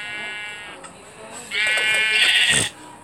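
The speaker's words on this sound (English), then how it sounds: "Sheep! Finally, I have first my own sheep." Sheep in the Minecraft video game bleat in two wavering calls, the second louder and longer, heard close and clear without talk.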